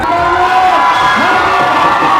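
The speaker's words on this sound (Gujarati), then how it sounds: "એટલે જોરદાર તાળી દીધે ટેગલાઈન માટે" A loud crowd at a live event in Mundra cheers, applauds and shouts together, high excited voices whooping in a continuous roar that stays strong from start to finish.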